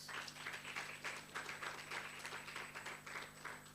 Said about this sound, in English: With a round of applause, colleagues.